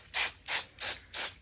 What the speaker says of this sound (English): spray it with some water